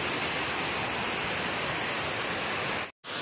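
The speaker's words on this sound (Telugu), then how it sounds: "నిర్మల్ దగ్గర ఉండే వాటర్ ఫాల్." Kuntala waterfall near Nirmal roars as a dense, steady rush of falling water, loud and unbroken across the whole stretch apart from a momentary dropout near the end.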